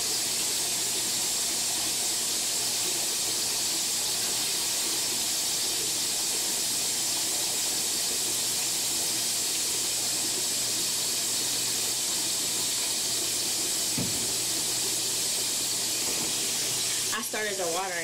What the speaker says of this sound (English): I started the water and then I didn't put no detergent in it.